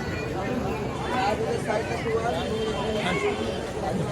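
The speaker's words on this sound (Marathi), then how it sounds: "गर्दी बघा गर्दी" Crowd of pilgrims near the Pandharpur temple, a continuous murmur of many voices and footsteps at moderate level, with a voice speaking nearby over it.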